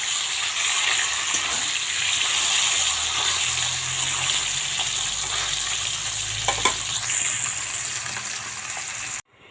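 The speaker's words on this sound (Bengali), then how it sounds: "এটা কাতলা মাছটা ভালো করে লাল লাল করে ভেজে নিই।" Pieces of katla fish fry in hot oil with a steady, loud sizzle that runs throughout and ends abruptly, joined by a brief clatter near the end.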